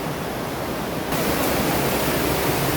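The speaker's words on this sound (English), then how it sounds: "There's a better shot of that little misty waterfall." A small misty waterfall in a gorge in Bavaria gives a steady broadband rush of falling water, close and constant throughout, with no voices.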